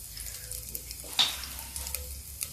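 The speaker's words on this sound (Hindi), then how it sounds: "ये तेल मेरा गर्म हो रहा है। इसमें हम डालेंगे थोड़ा सा लहसुन।" Garlic frying in hot oil for dal, a soft steady sizzle with light crackles and a brief stirring clatter, close by.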